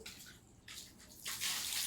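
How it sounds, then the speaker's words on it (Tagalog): Water runs from a tap, a hissing splashing flow that surges in bursts and grows louder toward the end, with no talk. "Mudagan ang tubig dinhi."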